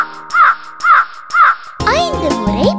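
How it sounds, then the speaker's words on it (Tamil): A crow in a children's rhyme caws three times in steady, evenly spaced calls, clear and close, followed by sung music with voices. "நான்கு முறை கரைந்தது"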